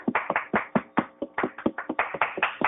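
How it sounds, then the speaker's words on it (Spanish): A small group claps in quick, uneven bursts, the sharp hand claps close and distinct, forming brief applause. "Fuertes aplausos para la hermana, por favor."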